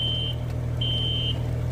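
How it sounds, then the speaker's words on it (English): A fire alarm at a strip mall sounds in long, piercing high-pitched beeps, two steady tones separated by a short gap, heard from nearby over a constant low engine rumble outdoors on a cold, rainy day. "Still trying to make entry here and get the alarm to stop sounding."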